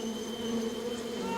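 A bee swarm buzzes in a continuous steady drone, dense and unbroken, heard alone with no talking.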